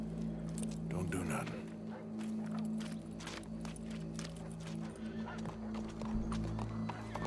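Horse hooves clip-clopping in the Red Dead Redemption western game, a steady rhythm of walking hoofbeats under continuous talk and crowd noise, with a horse whinny near the start.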